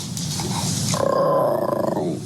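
A Basenji dog lets out a low, rumbling growl that rises into a drawn-out, wavering yodel-like call, close and fairly loud, with no talking.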